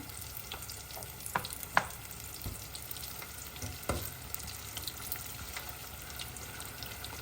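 Tempe ingredients being stirred in a small container, a soft continuous scraping and mixing texture with a few sharper clinks and knocks scattered through, no one speaking.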